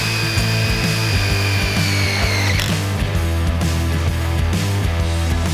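A power drill whirs steadily at close range, driving screws into PVC fence gate hinges, its motor pitch dropping partway through, with rough grinding and rattling layered over it throughout.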